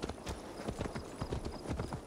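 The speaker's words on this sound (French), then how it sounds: "On appelle le cheval." A horse in Assassin's Creed Valhalla arrives at a gallop after being called, with steady, rapid hoofbeats clip-clopping close by and loud for two seconds, alone with no talking.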